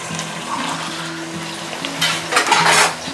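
Drained rice tipped into a pot of mutton masala for pulao and stirred, a wet, watery rustle and slosh over a low background tone that swells into louder scraping churns near the end.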